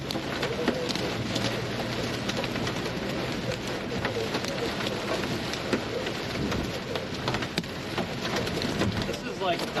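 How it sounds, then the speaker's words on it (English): Small dime-sized hail drums steadily on the aluminum body of a car during a severe windstorm on the highway, a dense, continuous rattling patter with rain and possible distant thunder throughout. "It just sounds a lot louder than it sounds bigger because of the aluminum car body."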